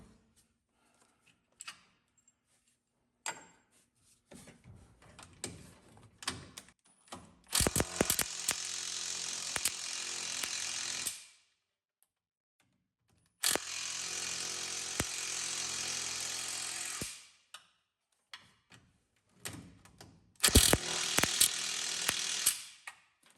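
Ratchet clicking steadily, near and clear, as bolts are loosened on a Buick's power steering box, in three long runs of fast ratcheting with scattered metal clinks and pauses between them.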